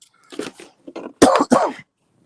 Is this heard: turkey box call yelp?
no